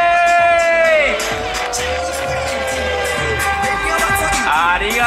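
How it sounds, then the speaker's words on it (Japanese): An outdoor audience at the Sapporo Snow Festival moguls session cheers and whoops for skiers, with a crowd roar rising and falling under a loud announcer's voice. "オーディエンスの皆さん、準備はいいか、ライダーたちに大きな歓声を上げてくれ"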